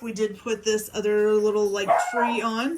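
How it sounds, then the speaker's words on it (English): A pet dog barks a few times in a home while a person talks over it, the barks mixed in with the speech. "Oh, excuse my dog barking."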